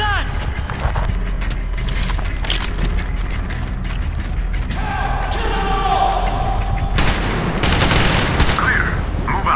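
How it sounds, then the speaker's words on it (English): Covering gunfire in Metro Exodus, with dense machine-gun bursts and scattered shots rattling continuously for several seconds, a mechanical clatter, and a loud volley near the end, mixed with shouted voices. "Covering fire for the Colonel! No saving ammo!"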